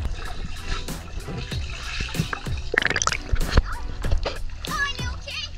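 Splashing in a marina swimming pool on a hot day, with repeated near, lively splashes and drips under excited talk from adults and a child.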